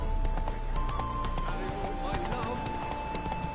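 Steady clip-clop of hooves from Roach, Geralt's horse in The Witcher 3, trotting at a regular rhythm under a voice and ambient game sounds.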